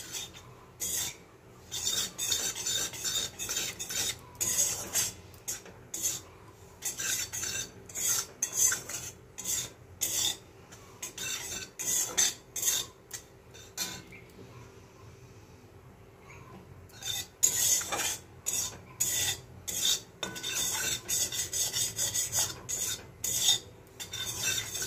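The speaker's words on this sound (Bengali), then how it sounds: "বেসনটা দিয়ে অল্প আঁচে অনবরত নাড়তে হবে, নইলে কিন্তু পুড়ে যাবে।" Dry gram flour (besan) being stirred in a heated pan over low flame, a steady scraping and rasping of the spoon against the pan in repeated bursts, close and fairly quiet, pausing briefly midway, with no talk.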